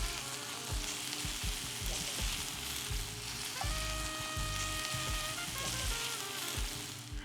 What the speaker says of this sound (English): we're gonna pan fry